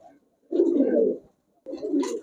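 Giribaz high-flyer pigeons coo softly in two low, throaty bursts with a short pause between them, fairly close and with no talking over them.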